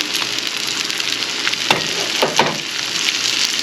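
Celery sizzles in melted butter in a pan, a steady close crackle with a couple of sharper pops as pieces settle, and no voices over it.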